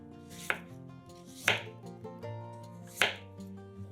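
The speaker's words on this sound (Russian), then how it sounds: "Берем 2 молодых кабачка и нарезаем их кружочками." Young zucchini sliced into rounds with a knife, three sharp chops landing on a cutting board about a second apart, heard up close over a faint background hum.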